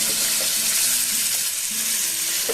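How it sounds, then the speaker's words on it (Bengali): Capsicum frying with spices in a pan for a vegetarian paneer dish, giving a steady close sizzle with faint scraping and stirring throughout and no talk. "দিয়ে আমি এটাকে একটুখানি ভেজে নেব মশলার সাথে"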